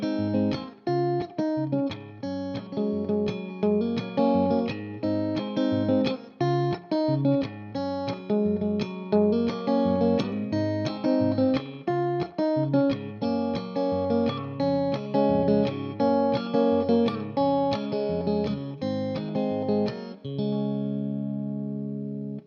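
An electric guitar with effects plays a steady strummed thumb-chord pattern from a song, notes ringing in a regular rhythm, ending on a sustained chord.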